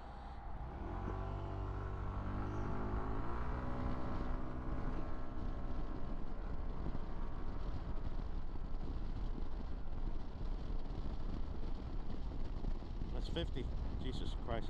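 A Yamaha SMAX 155cc scooter is ridden on a quiet Sunday-morning road, its small engine rising in pitch as it accelerates under steady wind buffeting, the drone continuing throughout.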